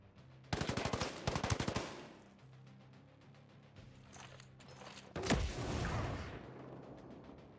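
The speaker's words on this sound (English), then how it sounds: "Why did that burst fire?" Burst-fire gunfire in the video game Ghost Recon Breakpoint, two rapid rattling bursts close up, a quieter stretch with a low hum, then another loud burst and rumble.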